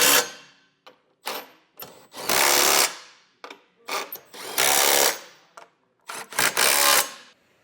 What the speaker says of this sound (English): To tighten these down, we'll just need a 17mm socket, same size that we used to take our factory bolts off.